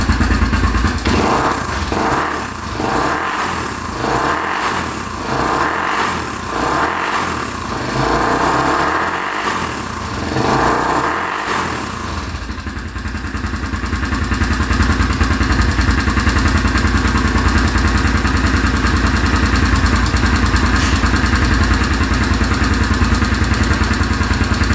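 A smoky Honda quad ATV engine idles steadily and loudly up close, with a pulsing uneven chug early on that settles into a smoother continuous drone, no talking over it.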